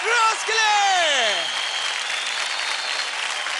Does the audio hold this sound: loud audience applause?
yes